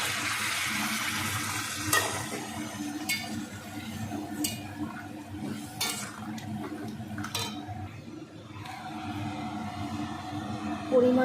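Hot water is poured into a pot of food cooking on a home kitchen stove, a steady watery rush mixed with sharp clinks and knocks of cookware and utensils, fairly close.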